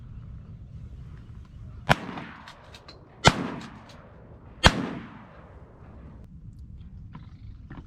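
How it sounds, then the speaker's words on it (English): Shotgun fired while hunting swans over decoys from kayaks in Utah: three sharp, loud blasts about 1.4 seconds apart, each followed by a short decaying echo over steady background noise. "Shoot that single, Brian."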